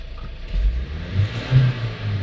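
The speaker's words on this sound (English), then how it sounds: "We're going to start the vehicle up." A car engine turns over and catches, then settles into a low, close rumble with small surges in revs, loud and steady without any talk.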